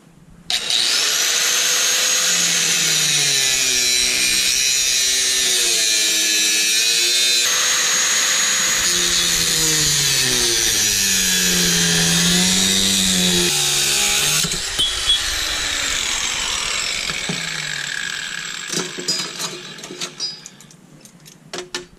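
Power tool cutting through an exhaust pipe during turbo manifold fabrication on a 1981 Camaro Z28 with an LQ4 engine swap, a loud, shrill grinding whine whose pitch wavers as the cut goes on, then fades and rattles to a stop.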